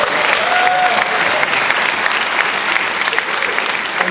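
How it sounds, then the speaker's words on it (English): A crowd claps loudly and steadily at a question-and-answer session after a screening of the film Almost Human, a dense, continuous wash of hands that holds at full strength for the whole stretch without any speech. "Let's give her a round of applause."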